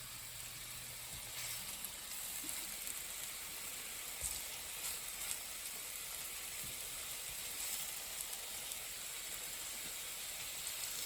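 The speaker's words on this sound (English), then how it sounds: "So these little broquettes, we're gonna get them sizzling." A steady, faint sizzle of broccolini frying in a pan, a continuous hiss with small crackles and pops, no voices.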